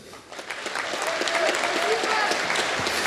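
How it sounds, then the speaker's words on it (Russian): Arena crowd applauding a Russian female fighter at a combat sports event, dense clapping that swells after a brief quieter start, with an announcer's voice over it. "Аплодируем."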